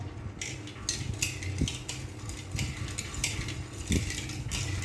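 A spoon stirring lemon sherbet with salt, clinking repeatedly against the vessel in an uneven rhythm, close and fairly clear over a low steady background hum.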